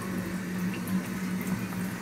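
Pig feet simmer in a pot of boiling water, a steady low bubbling and hiss that runs evenly throughout with no one speaking.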